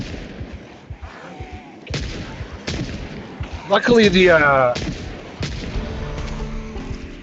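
Gunfire in a zombie survival video game: several sharp, loud shots crack one after another, with a brief metallic ringing burst, over a rainy background while someone talks.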